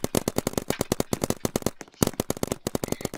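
Video game gunshots ring out in a fast, regular automatic stream of loud, sharp cracks, close up, with one brief lull in the middle before the rapid firing resumes.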